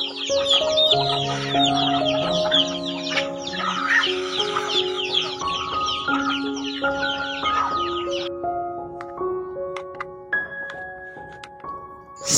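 Chickens cluck and squawk in a busy chorus, several birds calling over one another at close range, with a few sparser calls toward the end.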